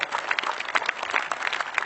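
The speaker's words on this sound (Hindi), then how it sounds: "तालियां कम मत कीजिए सब" At a Hindi poetry recital by Hariom Pawar, the audience claps vigorously and continuously, a thick, lively burst of applause filling the hall without any voices on top.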